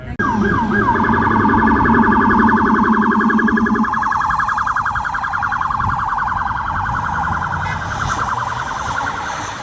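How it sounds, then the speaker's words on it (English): Loud, close emergency sirens of ambulances and police cars wail and yelp continuously on a New York City street, two overlapping tones at first, then a single siren carrying on over street rumble. "Like ambulances and and then cops every minute"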